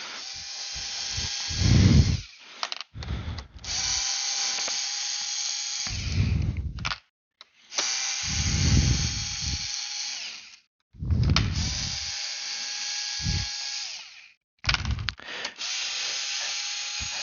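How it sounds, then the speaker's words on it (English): A power drill backs screws out of a bidet housing, loud whirring bursts of a few seconds each separated by short pauses, repeated several times up close. "we're going to take our drill and we are going to remove these screws right here"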